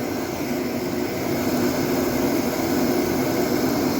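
A Built Hard forced-air propane heater runs on its highest setting, giving a loud, steady jet-like roar with a broad whooshing rush that holds unchanged throughout, with no voices.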